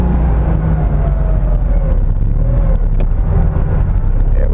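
An early Porsche 911 hot rod drives along, its engine a loud, steady drone heard from inside the car. The engine note holds constant with faint whine and road rumble underneath.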